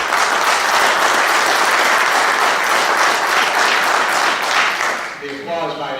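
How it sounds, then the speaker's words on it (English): Audience applause after a debate answer at a university Q&A on labor legislation, a dense steady clapping that fills the room and then tapers off quickly near the end. "the applause might indicate that Stewart answered the question and shared his closing with us"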